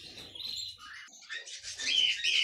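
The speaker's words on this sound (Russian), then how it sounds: "сейчас я вам продемонстрирую, как в такой клетке чувствуют себя канарейки" Canaries in a panoramic cage chirp and trill in quick high bursts, a bright run of song building louder toward the end, close by with no talk over it.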